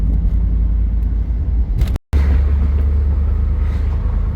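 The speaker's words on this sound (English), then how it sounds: "Convertible Trans Am, driving across the bridge." A 1991 Pontiac Trans Am WS6 convertible driving across a bridge, heard as a steady low engine rumble and road noise that stays constant and close, broken once by a brief cut in the sound.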